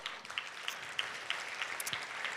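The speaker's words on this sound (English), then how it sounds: "Let's give him a big round of applause." Audience applause at a live-streamed event, a moderate spread of clapping with scattered sharper claps, steady and mid-distance for a couple of seconds.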